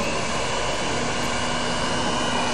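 Jet of air blowing from a nozzle holding a ball steady: a constant loud, broadband rushing roar with no break and no talking.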